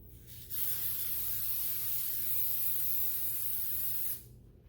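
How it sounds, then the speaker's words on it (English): Cooking spray sprayed into a cake pan: a steady aerosol hiss runs continuously for about three and a half seconds, close and fairly loud, then stops abruptly. "now we just have to put it in the pan. So it's just one cake pan. Gonna go ahead and spray it."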